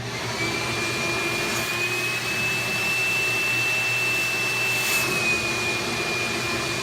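Vacuum cleaner used on the back end to suck a fish string through a hole in a corner wall during wiring work, a steady loud drone with a high whine that rises and holds for several seconds.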